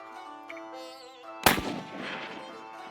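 A single rifle shot fired while hunting Coues deer in Mexico cracks sharply and loudly, then rolls away in a fading echo after a quiet, tonal background.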